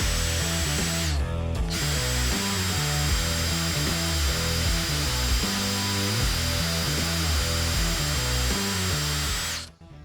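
A drill-driven deburring tool cuts a threaded rod, a loud steady whirring grind with a harmonic hum that runs continuously for about ten seconds before cutting off abruptly near the end.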